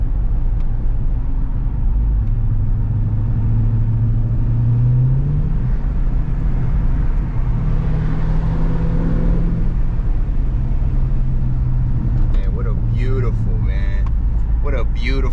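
A Ferrari sports car passes nearby with a loud, steady engine rumble that swells toward the middle and fades, with people talking over it.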